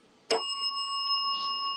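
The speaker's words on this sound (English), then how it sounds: "You hear it in the echo of the bell." A single bell strikes sharply and then rings on with a clear, sustained metallic tone that lingers without fading much.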